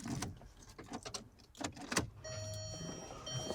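Keys jingle and click near the ignition of an L322 Range Rover, then the car powers on with a steady electronic hum and tones.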